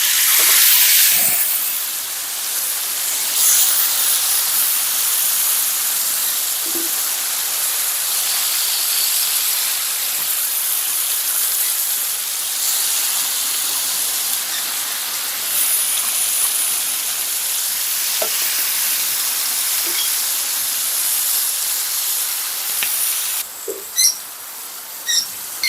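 Beef steak sizzling in melted butter in a hot pan, a loud, steady, hissing sizzle that lasts throughout, close up, with a few faint clicks near the end and no talking.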